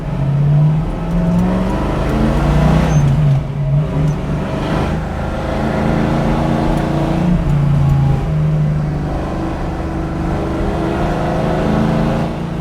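A 1965 Ford Mustang engine drones and climbs steadily through the gears on a winding road, loud and close throughout with low harmonic rumble and shifting revs, no talking.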